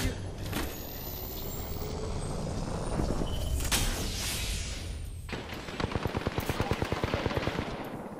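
Rapid automatic gunfire in an Apex Legends firefight, loud close bursts over a rumbling background, ending in a steady, evenly spaced stream of shots with no talk.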